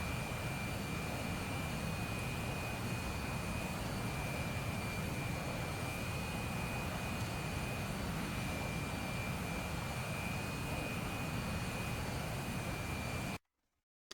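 Jet afterburners firing in a video game, heard as a loud, steady roar with a high whine, holding unbroken for about thirteen seconds and then cutting off abruptly to silence.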